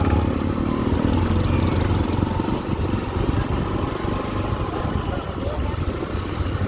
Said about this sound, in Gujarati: આ બાઈક આરામથી પાસ થઈ જશે.